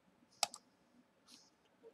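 Typing on a computer keyboard: a few light, quick key clicks, one sharper tap followed by softer presses, close and quiet with no talk.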